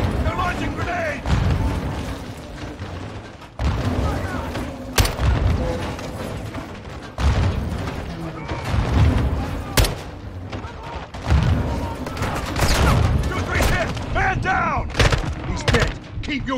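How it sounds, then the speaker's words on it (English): Grenade blasts and gunfire in Call of Duty Modern Warfare 2 come as sharp, loud booms and volleys at irregular intervals, with a battle rumbling between them and voices calling out. "Incoming! Take cover! They're launching grenades!"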